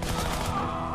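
Uzi fire in the Shank video game bursts as a rapid, dense volley lasting about a second, loud and continuous over the game's backing sound.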